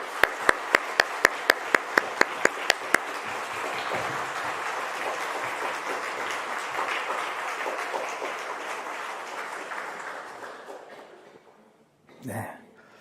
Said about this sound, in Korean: 다시 한번 크게 박수하겠습니다